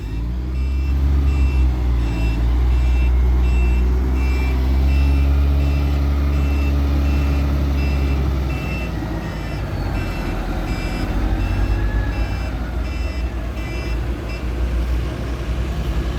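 A Sany concrete mixer truck reverses with its diesel engine rumbling close by while a reversing alarm beeps in a steady repeating rhythm.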